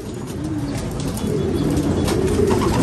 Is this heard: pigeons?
yes